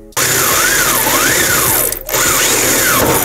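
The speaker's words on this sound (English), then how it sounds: "take your drill and drill through just this first layer" A power drill whines loudly up close, its pitch wavering as it bites through a carbon fiber car hood, briefly cutting out before starting again.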